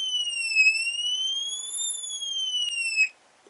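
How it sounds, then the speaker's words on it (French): A Bosch Spexor mobile alarm shrills inside a camper van, a loud electronic tone sliding up and down in a sweeping pattern for about three seconds before cutting off. "Alors dans le camion, on entend l'alarme et le voyant rouge qui s'allume."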